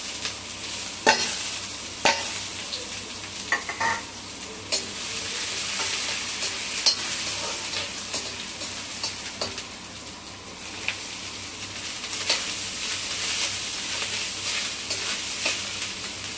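Moong dal and red chillies fry in hot oil in a pan with a continuous close sizzle, broken by repeated scraping stirs and spatula knocks at irregular intervals over about sixteen seconds, no talking.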